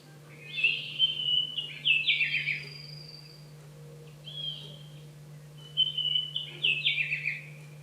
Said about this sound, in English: it's so much easier and nicer to wake up to birds chirping and a fake sunrise